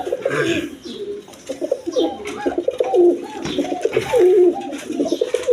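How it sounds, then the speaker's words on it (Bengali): Gorra pigeons, fresh birds for sale at a pigeon seller's, coo repeatedly up close in soft, throaty, rolling phrases. No talk is heard. "দেখেন একদম ফ্রেশ কবুতর গররা কবুতর দেখেন"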